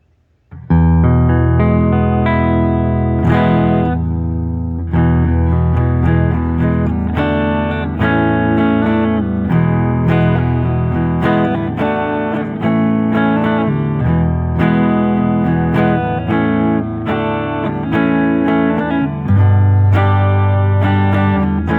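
Clean electric guitar strummed repeatedly on a semi-hollow Gibson ES-335 or Epiphone Lucille, full ringing chords played loud and steady with a brief quiet start.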